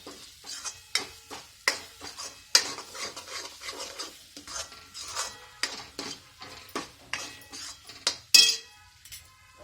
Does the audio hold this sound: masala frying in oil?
yes